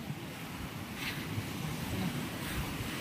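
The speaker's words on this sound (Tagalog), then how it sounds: "Malalaki ang alon." Large ocean waves and gusting wind at sea from a small fishing boat, a continuous rough rushing wash with wind buffeting the microphone and swells rising and falling, no talk.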